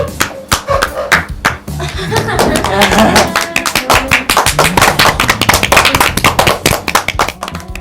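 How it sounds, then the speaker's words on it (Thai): Office staff clap to welcome a new branch manager: a crowd of hands claps loud and close, sharp irregular smacks overlapping into a busy patter, with voices talking over the clapping. "ปรบมือต้อนรับผู้จัดการคนใหม่"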